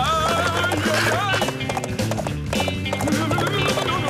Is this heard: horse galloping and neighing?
yes